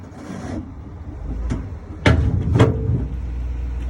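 A gooseneck trailer with an empty load jerks against the ball hitch of a 2020 Chevy Silverado, giving a few sharp metallic clunks and knocks, close and distinct, spaced about half a second apart.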